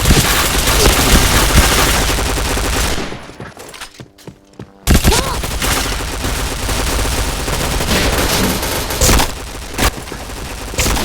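Gunfire in the shooter game Point Blank: dense, loud bursts of automatic shots nearly throughout, with a short quiet gap midway before the firing resumes.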